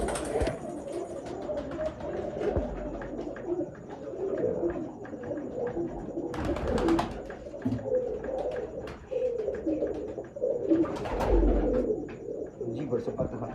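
Pigeons cooing in a loft, soft repeated low coos under a busy background of fluttering, shuffling and scattered chirps, with occasional louder rustling bursts and some people talking.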